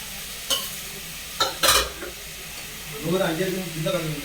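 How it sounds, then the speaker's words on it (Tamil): Cumin, peppercorns, curry leaves and tomato are sautéed in a pan with a soft sizzle and a few sharp spatula strokes, and someone speaks briefly near the end. "இந்த சீரகம் ரெண்டு மூணு மிளகு தக்காளி இந்த எல்லாத்தையும் ஒரு வதக்கு வதக்கிடணும்"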